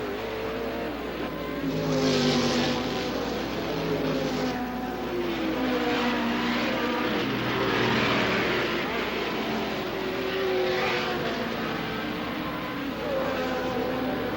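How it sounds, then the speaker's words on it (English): Race car leaving the pits and rejoining a race in a cloud of smoke, engine roar swelling and fading as cars pass at a distance, with a narrator speaking over it. "Sullivan rejoined the race in a cloud of smoke without losing his advantage over Holbert"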